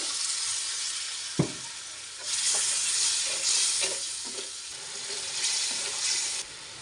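Spice masala for a small-shrimp curry sizzles in a pan with a little water, a steady loud frying hiss broken by a sharp clack near the start and several scraping stirs of a spatula.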